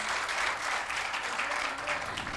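A crowd applauds at a Hindi-Urdu poetry recital during a mushaira and kavi sammelan in Mumbai, a steady, fairly distant wash of clapping that holds evenly throughout.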